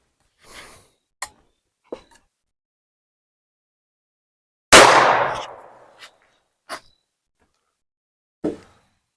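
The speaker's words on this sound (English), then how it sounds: "Now let's try 17 and HMR. See if it'll go through it." A .17 HMR rifle fires a single sharp, loud shot outdoors that decays over about a second, set among a few faint isolated clicks and handling sounds in near silence.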